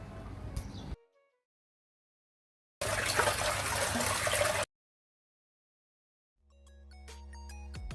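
Water spills from the overflow of a full household water tank, a rough gushing splash in a couple of bursts separated by silence, followed by a steadier trickle that swells near the end.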